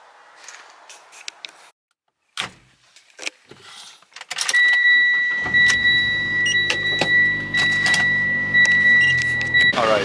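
Mitsubishi Lancer engine starting in a garage: early clicks and rattles, then the engine catches around the midpoint and settles into a steady, loud idle with a high-pitched whine, with no speech.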